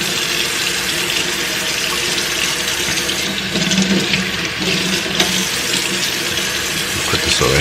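A kitchen sink tap runs in a steady, loud stream while squid is rinsed under it, with faint splashing and handling noise throughout.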